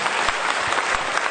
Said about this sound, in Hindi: एक जोरदार तालियों से स्वागत मिस्टर कुमार कुलविजय जी के लिए